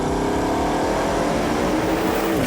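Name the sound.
Bugatti 8-litre quad-turbo W16 engine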